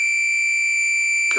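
A steady, piercing electronic tone from a 555 timer oscillator circuit with an added amplifier, holding constant and loud with bright harmonics, and a brief voice cutting in at the very end.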